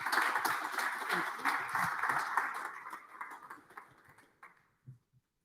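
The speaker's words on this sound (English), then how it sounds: "please give a round of applause for Louis Systems" Applause for a presenter at a live startup pitch night swells briefly from the audience, then thins out and dies away within a few seconds, leaving a couple of stray claps.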